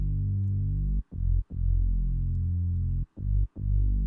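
A sustained synth bass line plays a short repeating G–G–F–F–G–G pattern with brief gaps between held notes, loud and buzzy with rich harmonics, for an instrumental remake of a song, heard alone without voices.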